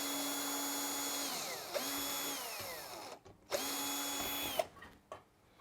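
A power drill backs Phillips head screws out of an LG tumble dryer, two long high whining runs that spin down with a falling pitch, separated by brief pauses and a clicking ratchet sound, close and steady.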